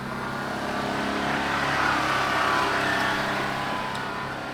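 A Suzuki Carry kei mini truck's engine strains steadily uphill above 11,000 feet in thin Rocky Mountain air, a loud, even, unbroken drone with no voices.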